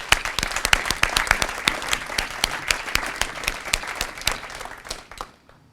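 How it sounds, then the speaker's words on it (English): Applause from a crowd at a military change of command ceremony, a steady wash of many hands clapping that fades out at the end. "One more time, I ask that we give them a round of applause."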